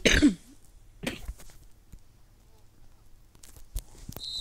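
A single sharp cough at the start, close and fairly loud, from a sick man playing Madden 22 Mobile, followed by quiet and faint clicks.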